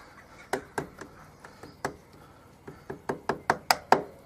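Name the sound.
screwdriver knocking off a motorcycle chain split link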